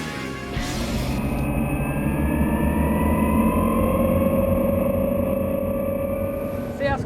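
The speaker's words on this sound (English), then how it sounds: "you can hear a cavitational noise" A steady motorboat engine drones close by on a Pirelli 1100 Sport during a sea trial, while a churning propeller cavitation noise rises in pitch, continuous throughout.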